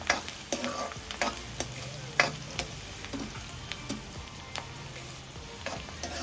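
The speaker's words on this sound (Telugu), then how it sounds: "ఆనియన్స్, పచ్చిమిర్చి, కరివేపాకు వేసుకోవాలి. కొంచెం ఫ్రై కావాలి ఇవి" Onions, green chillies and curry leaves frying in oil, a steady sizzle broken by frequent sharp spatula taps and stirring scrapes, close and moderately quiet, with no one speaking.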